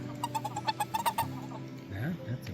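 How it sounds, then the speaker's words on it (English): A frog calls at a backcountry campsite near a tent on the Idaho Centennial Trail, sending out a quick run of about ten short, evenly spaced croaks followed by a lower, throatier call, with people talking nearby. "that's a bird. No, it's not. It's the frog."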